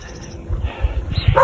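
A big dog barking and yipping on a road, a few short bursts fairly close, rising toward the end over outdoor background noise.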